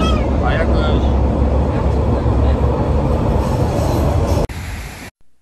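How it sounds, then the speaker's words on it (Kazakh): A metro train in Istanbul rumbles loudly and steadily close by, its roar cutting off abruptly near the end. "Метродан шықтық, қазір тағы да метроға отыратын боламыз."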